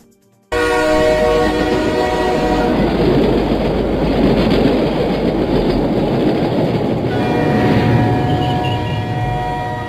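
A train rumbles loudly across a railway bridge under construction in Naciria, Boumerdès, Algeria, starting abruptly with a dense, steady roar and rail clatter, its horn tones sustained over the noise for about ten seconds.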